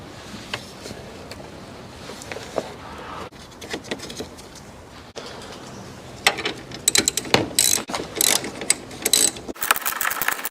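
A ratchet clicks in short bursts while tightening a car battery hold-down clamp, close and fairly quiet, with louder rapid clicking runs toward the end amid small metallic handling noises.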